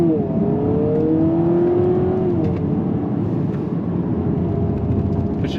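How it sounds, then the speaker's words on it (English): Simulated downshifts in a 2026 Honda Prelude, a loud steady engine-like hum inside the cabin with stepped tones that rise and then drop at each shift, under a constant road drone. "And you could hear the downshifts"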